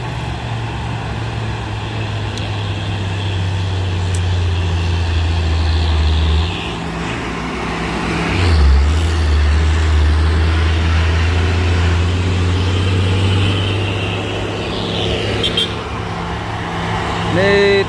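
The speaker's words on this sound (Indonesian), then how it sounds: "Ada lawan trailer." An oncoming trailer truck passes on an Indonesian road, a loud, continuous engine roar heard from inside a moving truck cab with steady road noise throughout, swelling briefly as the vehicles meet.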